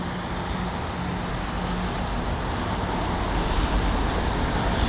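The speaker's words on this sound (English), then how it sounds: "you can see the arrival of a Qatar A380 from Doha" Qatar Airways A380 arriving from Doha at London Heathrow, a loud steady broadband jet roar with a low engine rumble, swelling slightly toward the end, with no voices.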